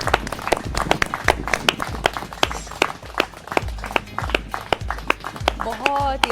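A live yoga show audience gives a burst of quick, sharp clapping that runs dense and close while someone talks over it.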